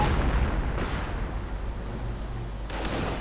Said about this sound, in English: it won't be able to withstand the withering fire of a 105mm howitzer